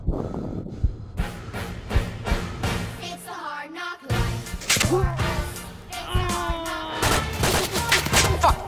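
Gunfire in the VR shooter Onward: rapid bursts of shots in quick succession, loud and close, with a brief lull midway before firing resumes.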